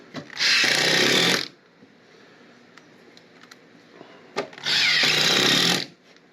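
A power drill drives screws into a plywood patch in a mobile home floor, in two loud, steady whirring bursts about a second long, separated by quiet handling clicks.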